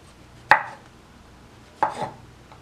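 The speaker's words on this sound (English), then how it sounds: "I'm going to keep the stems intact for the most part and slice them" A knife slicing through shiitake mushrooms on a cutting board makes two distinct crisp cuts about a second apart, each a sharp tap with a brief soft scrape, close and isolated.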